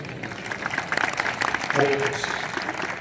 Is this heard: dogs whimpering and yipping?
no